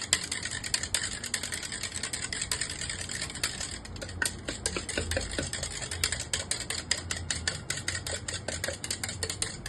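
A homemade aloe vera soap mixture is beaten in one direction in a bowl, giving a quick steady run of close clicking, scraping utensil strokes with no voices.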